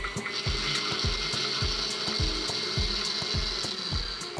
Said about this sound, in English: so first, let's do cream the butter